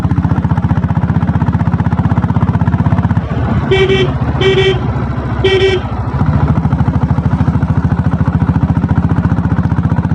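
A 7.5 HP diesel Royal Enfield Bullet motorcycle in a steady second-gear ride, its engine thumping in a fast regular pulse up close, interrupted midway by three short horn toots.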